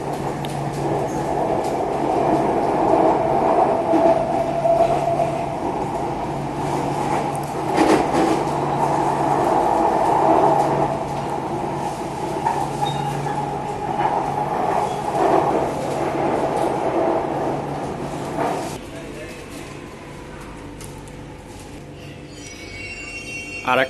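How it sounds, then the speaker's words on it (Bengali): A Chennai metro train rolls into a station and brakes to a stop, a loud sustained rumble and hum that eases and drops off toward the end as the train comes to rest. "আর একটা মেট্রো স্টেশনে এসে থামলো।"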